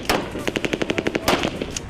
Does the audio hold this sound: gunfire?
yes